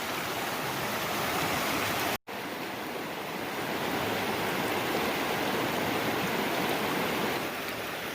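Stream water rushes steadily over the rocks of a trail water crossing on the Centennial Trail, a dense, continuous close wash of sound broken only by one brief dropout, with no voices.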